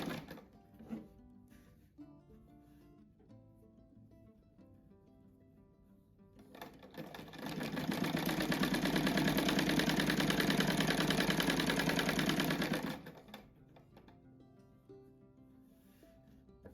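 Sewing machine stitching fabric for an envelope-style heart cushion, a steady mid-pitched whirring run of about six seconds between quieter handling noises.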